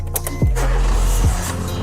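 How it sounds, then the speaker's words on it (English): A car engine starting with brief cranking and catching into a steady low idle, with a second rise in pitch like a revving engine; loud and close, with no talk. "So now if we go ahead and start the vehicle."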